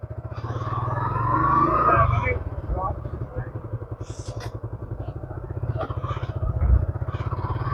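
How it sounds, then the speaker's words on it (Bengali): A one-year-old Suzuki Gixxer motorcycle engine idles with a steady low thump, revs briefly near the start, then settles back into a rapid rhythmic putter; a voice speaks faintly over it. "গাড়িটা অবশ্য একদম নতুনের মতো সাউন্ড টাউন্ড সবই নতুন"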